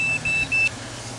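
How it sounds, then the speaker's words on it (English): A digital meat thermometer alarm sounds while center-cut ribs are smoked, giving three short, clear, close beeps in quick succession, then quiet. "There goes my alarm telling me that it went below."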